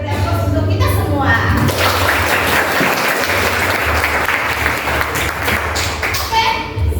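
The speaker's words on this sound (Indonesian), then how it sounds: "kita beri aplaus untuk kita semua" A classroom of pupils claps together in sustained, dense applause filling the room, steady throughout with some children's voices mixed in under the clapping.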